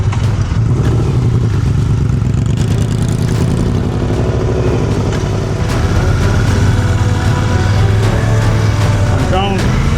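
A motorcycle engine runs continuously at slow speed without brakes during an advanced slow-speed riding practice in Maryland, a loud steady rumble with faint clatter and revving swells close by.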